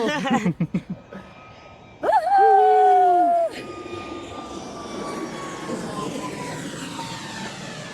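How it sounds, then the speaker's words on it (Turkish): A loud airplane engine roars in with a rising whine as it flies low overhead at Mai Khao Beach, Phuket, holds for about a second, then fades to a distant rumble; brief clicks precede it. "Eğer uçak geliyor."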